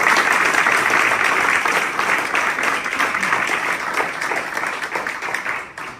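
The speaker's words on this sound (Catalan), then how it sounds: "Un aplaudiment a José," An audience at a charity fundraiser claps steadily for the full stretch, dense and even, slowly thinning toward the end with no talk over it.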